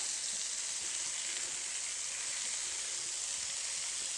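Crumbled ground beef fries in a pot for a one-pot stroganoff, making a steady close hiss and sizzle with faint scraping as it is broken up, even and unbroken, with no talk.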